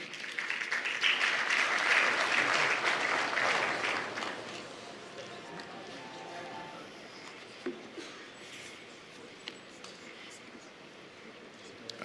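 An audience at the Afreximbank 2025 Annual Meetings applauds as the Special Advisor to the President on the Economy is introduced. The clapping is dense and loud for about four seconds, then thins out into scattered claps and room murmur.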